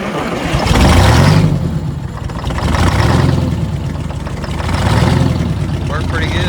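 A runaway Detroit Diesel V8 two-stroke engine surging loudly in repeated slow waves of rising and falling revs, close by, with people talking over it.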